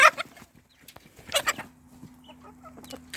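Hens and chicks being fed apple tart outdoors: close clucking and short squawks from chickens in scattered bursts, with faint peeping and a steady low background hum.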